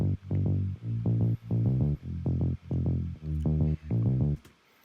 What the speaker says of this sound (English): Next we have a bass that's made in Silent.